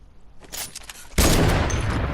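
A silenced SCAR fires in the Fortnite video game, starting with a few muffled shots and then breaking into a loud, dense burst of rapid gunfire that carries through to the end.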